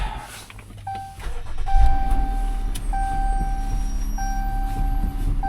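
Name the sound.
used car engine running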